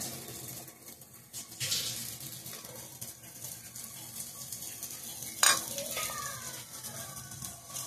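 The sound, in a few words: dosa batter sizzling on a hot pan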